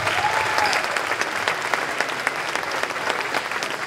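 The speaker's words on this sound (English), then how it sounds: "Give them a round of applause." Applause from an audience at an elementary school spring concert, steady and fairly loud for the whole stretch, with a few faint voices mixed in.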